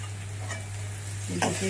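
Raw banana curry, cooked dry without gravy, is stirred in a pan: a brief steady sizzle ending in a quick scrape of the spoon, with no voices.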